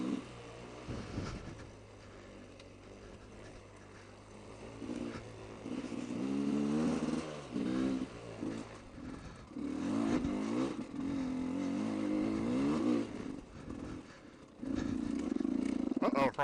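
A motorcycle engine revs and roars while the rider is stuck in the wrong gear, apparently still in second when a downshift was needed. The engine is loud and close, rising and falling in several surges, with speech heard over it in places.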